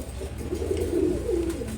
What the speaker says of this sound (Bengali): রেসার কবুতর জোড়া